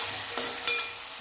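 Masala paste with curry leaves frying in oil in a pan, with a steady soft sizzle and a couple of brief stirring scrapes, close and fairly quiet.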